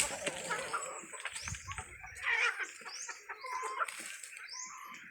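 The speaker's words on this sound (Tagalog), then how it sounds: "Halo-halo na yung manok natin dito guys." Several chickens, including Rhode Island Red and Black Australorp hens, cluck and chatter together, with soft scratching and rustling nearby and no voices.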